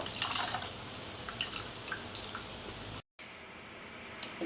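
Water drips and splashes as chhena soaked in cold water is wrung out by hand, an irregular run of small wet drips and squishes, close and fairly quiet, with a brief break near the end.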